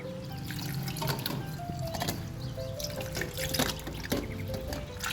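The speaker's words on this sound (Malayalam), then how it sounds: "ഇപ്പോൾ ഒരു ഗ്ലാസ് വെള്ളം ഒഴിച്ചിട്ടുണ്ട്." Water poured from a glass onto a lime-sized lump of tamarind soaking for Kerala puli inji, with steady liquid pouring, dripping and trickling sounds heard up close throughout, no talking.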